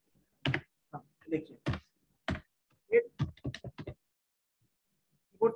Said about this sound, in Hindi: कीबोर्ड थोड़ा सा कभी कभी फंस जाता है